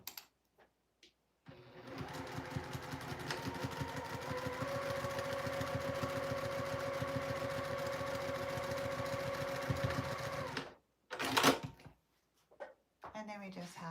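A home sewing machine stitches a seam on a fabric Santa caddy in one steady, close whir of rapid needle strokes lasting about nine seconds, with a few brief handling sounds before and after.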